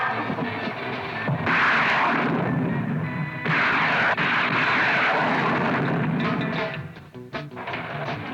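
A spacecraft port yaw thruster fires as a film sound effect from a 1967 science-fiction film, with two long, loud, roaring hiss bursts followed by a fading, sputtering tail.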